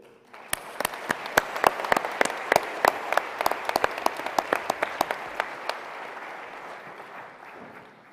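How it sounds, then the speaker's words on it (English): Audience applause at a space congress award ceremony in Baku, dense clapping swelling and holding steady with sharp individual claps standing out, then thinning toward the end. "So I want to ask you for a big round of applause to acknowledge these outstanding space pioneers"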